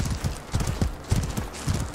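Horse hooves galloping in the medieval combat game Mordhau, a rapid rhythmic clip-clop of repeated hoofbeat clusters, close and fairly loud.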